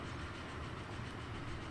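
Train rolling past in Transport Fever 2 as a steady, faint rumbling drone with no distinct clatter, alone with no voices.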